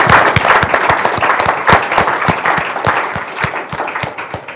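An audience at an evening literary reading applauds two authors, a loud, dense burst of clapping that starts strong and slowly thins out over a few seconds, with no talk on top.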